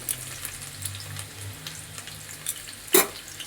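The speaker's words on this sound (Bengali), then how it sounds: "তেলের মধ্যে পেঁয়াজ কুচিটা দিয়ে দিচ্ছি" Chopped onion dropped into hot oil in a home kitchen pan for a water-lily stem and prawn curry, giving a steady crackling sizzle with a sharper spatter near the end, no voices.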